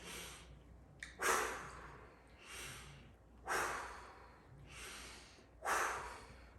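Slow deep breathing exercise: a series of long, forceful breaths, several audible inhales and exhales repeated at a steady rhythm, close and fairly loud with no talking.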